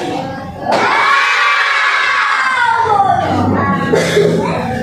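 A group of children in a classroom shouts loudly together in one long sustained yell, close by, with a second swell of voices near the end.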